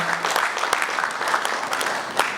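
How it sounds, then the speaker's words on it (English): Brief burst of audience applause for a team at a bank's product unveiling event, steady clapping from a crowd filling the room for a couple of seconds. "So let's just give the team a round of applause"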